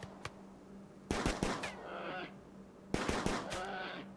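Gunfire rings out during a fight with a polar bear in the video game Rimworld: two distinct bursts of rapid shots with short ringing tails, separated by a quiet gap.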